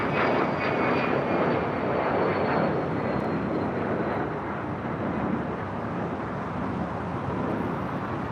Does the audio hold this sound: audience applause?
no